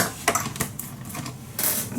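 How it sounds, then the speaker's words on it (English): An electronic die cutting machine works through paper, giving a few short clattering mechanical bursts and whirs at close range, fairly quiet and alone. "So I'm just going to go in my cutting machine"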